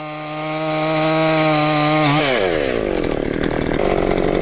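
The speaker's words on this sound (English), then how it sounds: "having a bit of drama with his little Husqvarna electric chainsaw" A small Husqvarna electric chainsaw revs up from a steady whine and bites into dense bluegum hardwood, its pitch sagging as it bogs down in the cut, loud and close with no talk.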